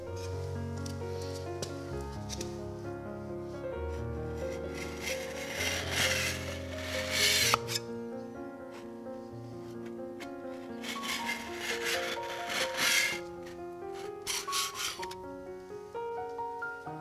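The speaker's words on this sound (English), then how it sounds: "So I'll leave you with a minute or two of footage of scraping off this citrus strip." A tool scrapes citrus paint stripper off a Rockwell mill in intermittent rasping strokes, quiet scratchy scrapes in short bursts over a tonal background hum.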